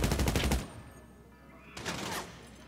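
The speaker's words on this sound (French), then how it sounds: "Ça tire" Gunfire in the GTA 5 Online video game, with a dense, rapid burst of shots at the start and a second shorter burst near the end, separated by a quieter stretch.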